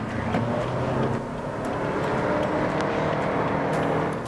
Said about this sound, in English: we're going to take the Cloverleaf really hard, really fast, and see how the car performs